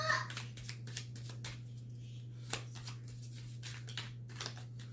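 Tarot cards are shuffled in quick, irregular bursts of soft papery riffling and tapping over a steady low electrical hum, close and fairly quiet.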